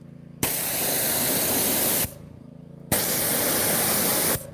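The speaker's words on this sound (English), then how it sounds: "how does the pressure washer sound? Can you even hear it running back there right now?" A loud, steady hiss of a pressure washer spraying in two long bursts, cutting off abruptly between them.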